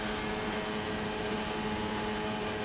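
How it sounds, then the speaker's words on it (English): A racing car in a video game at the China circuit, held in 8th gear, gives a steady, unchanging engine drone that stays constant and fairly loud throughout with no talk. "You can just hear him holding the 8th gear."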